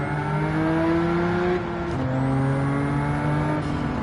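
Porsche race car engine in Gran Turismo 7, played in VR on PS5, holding a steady loud tone with a rising whine and a brief dip as it shifts gear, running continuously with no talk.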